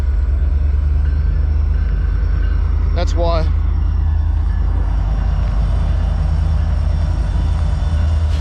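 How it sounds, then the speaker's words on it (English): A passing train rumbles steadily through the whole stretch near a 5k race route, low and continuous, while a runner briefly speaks partway through. "there's a train."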